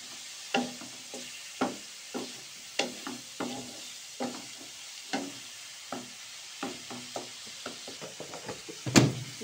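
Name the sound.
frying spices with garlic ginger paste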